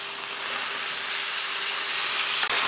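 Boiled mutton sautés with ground masala in a hot pan for a festive meat feast, a dense, even, close sizzle throughout with a brief knock near the end.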